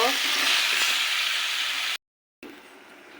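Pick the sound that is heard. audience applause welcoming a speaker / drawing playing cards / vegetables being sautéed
vegetables being sautéed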